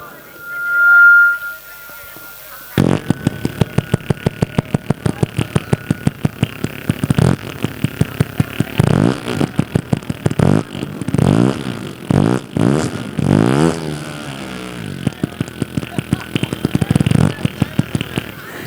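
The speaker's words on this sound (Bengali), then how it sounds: "ইঞ্জিনটা একটু চেক করি দেখেন সাউন্ডটা কেমন হয় CDI H hundred motor cycle" A CDI H100 motorcycle engine is started and left idling, a close, loud, rapid putter that speeds up and dips as the throttle is blipped, with brief talk over it.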